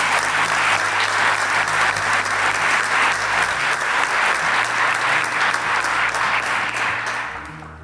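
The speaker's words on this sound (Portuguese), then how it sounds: "Uma salva de palmas para o Pedro." Applause from a large audience at a sports gala honoring Pedro: dense, steady clapping that stays loud and close for several seconds, then tapers off at the end.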